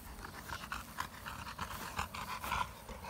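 Quick rhythmic panting from bullmastiffs nearby, soft and breathy, with occasional faint shuffles and clicks.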